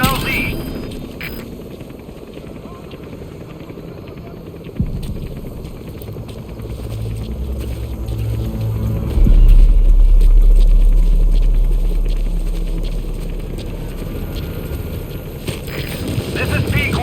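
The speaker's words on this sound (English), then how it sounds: "Support helicopter has arrived." A support helicopter arriving at a landing zone in Metal Gear Solid V: The Phantom Pain. Mechanical whirring and wind build into a loud, heavy rotor rumble partway through, while radio voices talk over it.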